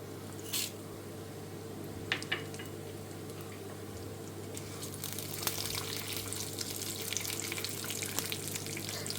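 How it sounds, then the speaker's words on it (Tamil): Mustard seeds, urad dal and chana dal frying in hot oil for a tempering, giving a soft, steady sizzle with scattered crackles and pops that grows denser toward the end, with no talking. "கொஞ்சம் எண்ணெய் சுட்டதுக்கப்புறமா பேசிக் தாளிப்புகள் தான். கடுகு, உளுத்தம்பருப்பு, கடலப்பருப்பு தான்."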